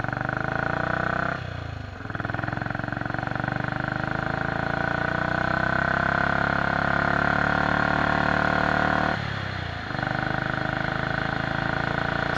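Norton International Special motorcycle engine pulls hard through the gears on a country road, a loud, close, rising drone broken by two brief dips at the gear changes before it climbs again.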